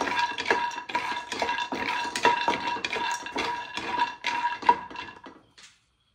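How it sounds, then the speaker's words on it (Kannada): Almonds being dry-fried in a pan, stirred with a utensil that scrapes and clinks in quick, uneven strokes close by, slowing down and then stopping at the end. "ನಾನು ಇದನ್ನು ಡ್ರೈ ಫ್ರೈ ಮಾಡ್ತಿದ್ದೇನೆ."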